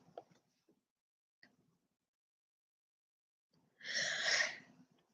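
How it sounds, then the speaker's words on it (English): A few faint breaths and small sounds give way to a single sharp, breathy sneeze near the end. "Oh, I have to sneeze."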